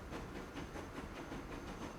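Train running in the Transport Fever 2 game: a steady, continuous rumble of rolling rail cars with faint rhythmic clatter and hiss, even and unbroken throughout.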